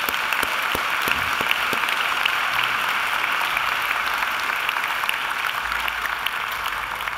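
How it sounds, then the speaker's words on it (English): A graduation ceremony audience claps steadily for several seconds, a dense, even wash of hand claps filling a large hall, moderately loud and uninterrupted by talk. "I think Angela deserves another great round of applause."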